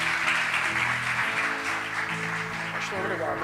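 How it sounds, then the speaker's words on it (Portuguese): Church congregation applauding during an evening worship service, a sustained wash of clapping from a crowd filling the room, with voices and music faintly underneath. "Salva de palmas para eles mais uma vez."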